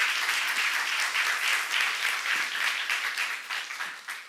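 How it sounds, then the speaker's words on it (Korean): An audience at a church seminar claps hard and fast, with loud, dense applause that runs throughout and eases slightly near the end. "박수하세요."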